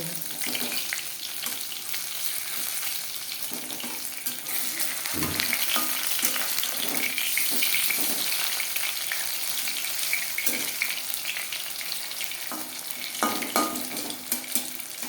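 Oil sizzles and crackles steadily as prawn and vegetable pakoras fry in a pan, with occasional scrapes and stirring clatter close by.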